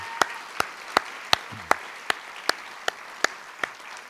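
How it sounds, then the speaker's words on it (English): About ten sharp, evenly spaced hand claps ring out one at a time in a slow, steady rhythm at a film festival gathering, clear and fairly close, with quiet room noise between them. "One more round of applause."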